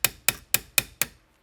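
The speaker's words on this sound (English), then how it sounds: "I'm just milking it up with a 2-ounce ball peen." Five evenly spaced, crisp metallic taps from a 2-ounce ball peen hammer striking metal, light blows about a quarter second apart, each ringing briefly before the next, then stopping.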